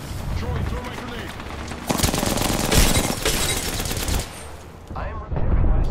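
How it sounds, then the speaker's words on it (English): Dense automatic gunfire in the Apex Legends battle royale, sustained overlapping bursts with heavier blasts in the middle, loud and close, with brief in-game voice callouts mixed in. "The enemies are shooting at me."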